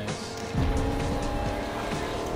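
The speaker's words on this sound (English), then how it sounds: "Oh, I hear a car." A car engine revs and roars up close with a brief tire squeal in Fortnite, game-style driving sounds running steadily throughout.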